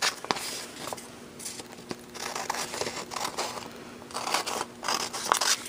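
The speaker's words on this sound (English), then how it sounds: "I find it easiest to just cut the strips" Scissors snip through strips of paper covered in washi tape, a series of short close cuts with light paper crinkling between them and no talking.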